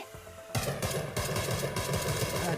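M762 assault rifle fire in a video game: after a brief quiet start, a loud, sustained stream of rapid automatic shots fills the rest of the clip.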